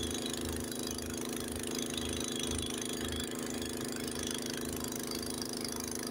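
Honda HS80 snowblower engine running during a Lake Tahoe snowstorm, a steady mid-pitched motor hum with a pulsing low throb, heard continuously at a moderate distance with no talk.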